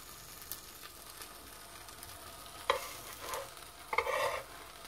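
Msemen flatbread fries quietly in a pan, giving a soft low sizzle with a few brief louder scrapes or pops near the end; no talking.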